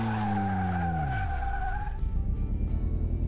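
In Car Mechanic Simulator 2018, a car drifts loose on a dirt corner under the handbrake. The engine tone falls as the tyres skid and scrub noisily. The skid is loud and close, with no talking.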